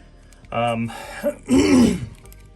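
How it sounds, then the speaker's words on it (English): A person clears their throat with a couple of gruff, rasping grunts, close and fairly loud, followed by quiet. "really got to clear my throat"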